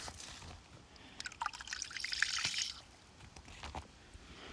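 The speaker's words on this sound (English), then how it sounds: "I got a lot of water coming out of here" Water trickles and pours out of a homestead ram pump, a soft, uneven dribbling with small splashes that rises in the middle and then eases.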